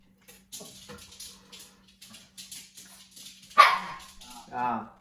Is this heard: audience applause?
no